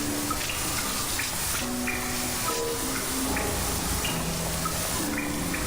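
In the video game Grim Fandango, water pours in to fill a room. A continuous, even rush of water runs the whole time, with faint tonal notes drifting over it.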